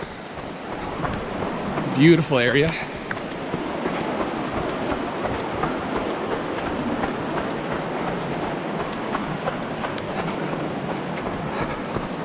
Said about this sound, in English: following Bright Angel Creek right here